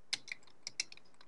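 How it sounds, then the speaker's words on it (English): Quiet, close keystrokes tap on a computer keyboard, a handful of separate clicks spread unevenly over a second with nothing else heard. "You're going to type in your first name"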